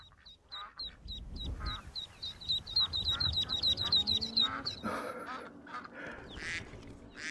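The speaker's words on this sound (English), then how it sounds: "No, it's not a wood duck, it's a mallard." Mallard ducks quacking in Skyrim Special Edition on Xbox One, with a rapid run of repeated quacks over the first few seconds and then scattered quacks and calls over ambient game sounds.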